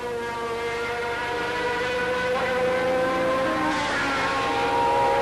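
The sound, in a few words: 1990 Formula One car crossing the start-finish line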